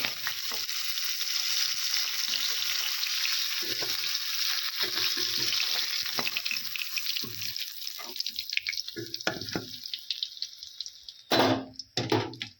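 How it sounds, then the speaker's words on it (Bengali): Pieces of katla fish frying in hot oil in a kadai, a dense sizzle and spatter that thins out toward the end, broken by a few scraping and clattering handling sounds. "এইভাবে সব মাছগুলো ভেজে নেব"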